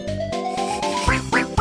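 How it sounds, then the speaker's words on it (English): Duck quacks played as notes on a keyboard, a short loud run of nasal quacking tones that ends in a few rising, squawky quacks. "if someone had the duck sounds on their keyboard."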